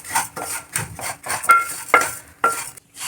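Vermicelli frying in oil in a pot and stirred with a metal spoon, with repeated scraping strokes and sharp clinks against the pot over a faint sizzle.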